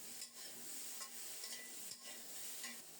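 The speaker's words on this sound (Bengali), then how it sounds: "নেড়ে চেড়ে ফুলকপিগুলোকে একটু ভেজে নেব" Cauliflower frying in oil while being turned over in the pan, giving a faint, steady sizzle with soft periodic stirring scrapes, close by and with no voices.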